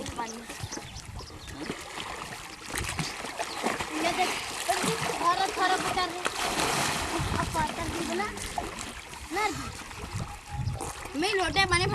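Water splashing and pouring from a small lota pot during an outdoor bath, continuous sloshing and splattering close by, with a voice and other people talking throughout.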